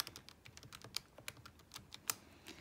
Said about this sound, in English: We can just hoi that into our calculator.